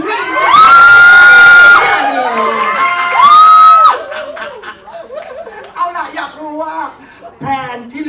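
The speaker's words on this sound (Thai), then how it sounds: "우리 기자님들의 환호 소리는 박수 소리보다 더 크다고 해가지고" A crowd of reporters at a press event cheers loudly with whooping, rising voices for a few seconds, then the noise settles into lively chatter and laughter.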